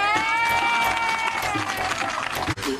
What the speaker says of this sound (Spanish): ¡Un aplauso para Mafú!